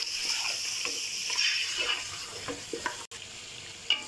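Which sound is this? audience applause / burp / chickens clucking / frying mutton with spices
frying mutton with spices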